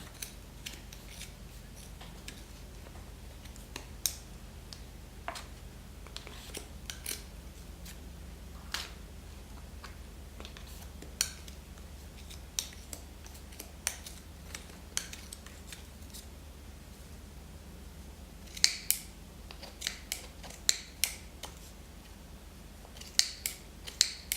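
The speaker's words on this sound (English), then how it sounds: "I think I needed sharper scissors." Repeated crisp snips of scissors cutting yarn for a pom pom, irregular and close, with quiet pauses between cuts and a few louder snaps near the end.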